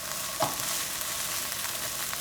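Onion pre-cooking in a frying pan gives a steady, moderate sizzle with a single brief clink near the start, otherwise an even hiss throughout.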